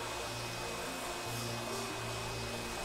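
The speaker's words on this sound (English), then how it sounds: "I'm using the oscillating spindle sander to fine-tune the shape." An oscillating spindle sander shapes a wooden piece for homemade exercise equipment, giving a steady, loud motor whir with a constant low hum that runs unbroken the whole time.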